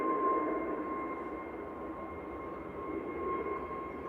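An SAS Airbus A320neo at Manchester Airport produces a steady, moderately distant engine roar with a sustained whine, even in level throughout, with no voices.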